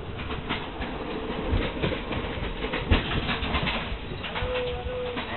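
Carriages of an overnight train from Kuala Lumpur to Bangkok rattle and clatter continuously at the end of the car, with steady rolling rumble, sharp clanks and knocks between the coupled cars.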